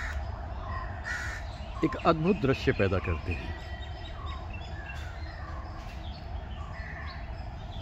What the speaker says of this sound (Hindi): इस वन में चहचहाते हुए परिंदे